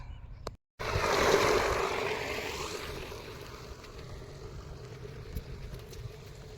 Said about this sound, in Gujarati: અહીંથી આવે છે રમ રમાટી પાણી ઘણું બધું પાણી આવે છે